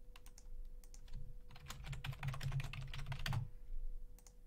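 Quick bursts of typing on a computer keyboard, close clicking keystrokes in rapid runs with brief pauses, alone without speech.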